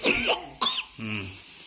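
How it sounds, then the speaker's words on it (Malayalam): A few sharp coughs in quick succession, close and fairly loud, the last one rougher and more drawn out like a throat-clearing. "ചുമ വരുന്നുണ്ട് ചുമ"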